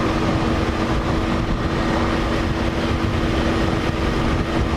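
A 2003 Yamaha XV250 Virago motorcycle runs flat out at its top speed of about 70 mph. Its engine makes a steady, unbroken roar blended with loud wind rush, with no pauses or gear changes.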